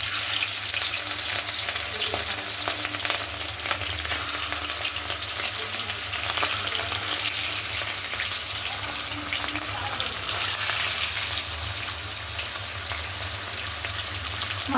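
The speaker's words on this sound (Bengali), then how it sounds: "মাছগুলো এবারে ভেজে নিই।" Pieces of rohu fish frying in hot oil for a Bengali-style kalia, a loud, continuous close sizzle and crackle that holds steady throughout with no voices.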